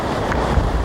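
Hurricane surf and strong wind on a beach make a loud, steady roar of crashing waves and gusting wind noise in a brief burst.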